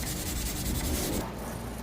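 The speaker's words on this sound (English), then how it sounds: "Then I move to sanding off to smoothen the surface, and then polishing the handle with my buffer." A wooden axe handle is sanded by hand in steady back-and-forth rubbing strokes, a close, rough scratching that fills the short stretch and then eases.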